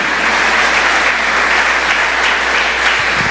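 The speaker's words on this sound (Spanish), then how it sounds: "¿Cuánto le damos ese fuerte aplauso al Rey de Reyes, Señor de Señores?" A church congregation claps loudly and continuously during a Spanish-language service, a dense, sustained wash of applause heard close up with no voices above it.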